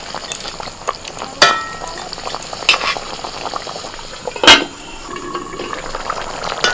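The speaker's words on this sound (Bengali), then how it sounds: "মশলাটা ফুটে গেছে," Spice masala with tomatoes, water and fried katla fish bubbles steadily in a pan for a Bengali village fish curry, a loud, close boil broken by a couple of sharp utensil clinks.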